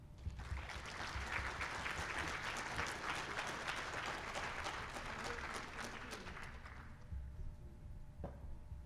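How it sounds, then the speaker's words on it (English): Audience applause following a talk on sleep in Parkinson's disease, a steady, fairly distant wash of many hands clapping that fades out near the end, leaving a quiet room. "Let's do another good round of applause for Becky."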